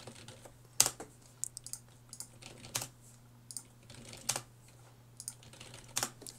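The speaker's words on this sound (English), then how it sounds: "And if I type," Sparse, scattered keystrokes on a computer keyboard click faintly against a low steady hum, a few isolated taps spaced irregularly with no talking.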